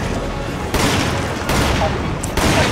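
Loud bursts of gunfire in co-op Resident Evil 5 hit in a few sharp onsets over a dense, sustained roar of shooting, close and heavy, while players talk over it.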